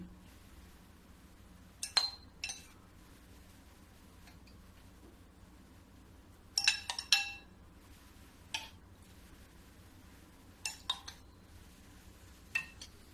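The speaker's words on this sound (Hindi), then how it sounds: "देखो मैं एक कांच के बाउल ली हूँ, इसी में मैं रसगुल्ला को निकालूंगी" Rasgulla being moved into a glass bowl: scattered bursts of clinking glass and utensil taps come in short clusters with quiet gaps between them, close by and with no talking.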